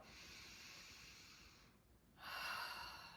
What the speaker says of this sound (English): take an inhale, take an exhale